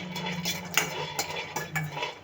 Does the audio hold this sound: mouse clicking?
no